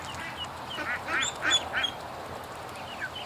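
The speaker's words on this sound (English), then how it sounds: "Poor duck." Disco, a duck with a permanent limp, gives a few soft nasal quacks in a short cluster at moderate distance over steady outdoor background noise.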